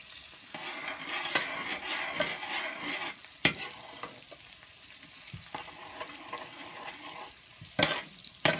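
Chopped onions frying in Smart Balance spread, a steady close sizzle with scraping stir strokes and a few sharp clanks of the utensil against the pan, no voices.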